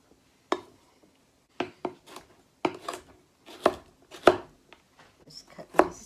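Delicata squash and vegetables are cut with a knife on a cutting board, a series of irregular, close, crisp chops separated by short pauses, with no talking.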